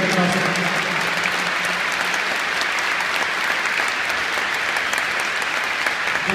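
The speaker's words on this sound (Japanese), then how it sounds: "この2人に皆様の方からねぎらいの拍手をいただければ大変光栄でございます。" Stadium crowd applauding two honoured people at the final home match of a 2014 Yokohama F. Marinos season, a broad, sustained wash of clapping from many hands.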